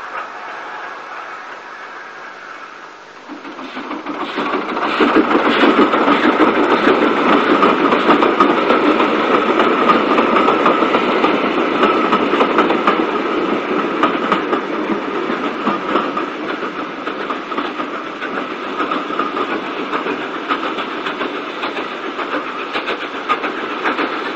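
A Class 4F steam locomotive brings a train back over a crossing onto the down line at Templecombe, a loud, steady rumble with rhythmic clickety-clack of wagons rolling past close by.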